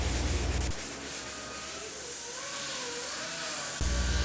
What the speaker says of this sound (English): it's time for more sanding.